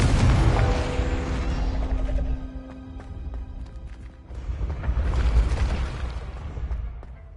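A Confringo blasting spell in Hogwarts Legacy bursts with a loud booming explosion that rumbles and fades, followed by a second heavy blast a few seconds later.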